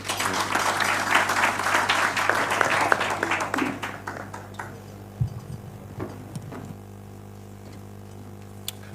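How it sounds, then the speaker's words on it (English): An audience at a political press event breaks into applause that starts loud and dense, then thins out into a few scattered claps and fades away over a low background hum. "Another round of applause for the Honorable Pauli Omondi."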